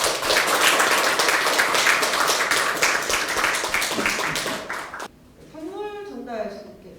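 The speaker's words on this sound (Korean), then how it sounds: "지금부터 힘찬 박수로 시작을 하도록 하겠습니다." Vigorous applause fills a hall at a party leadership inauguration ceremony, dense steady clapping for about five seconds that stops abruptly, followed by a voice speaking.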